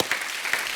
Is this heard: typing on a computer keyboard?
no